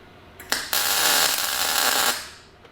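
A Boxer Mig Flex MIG welder lays a short bead, a sudden buzzing crackle that starts with a quick spark and holds for about a second and a half before it stops, close and loud.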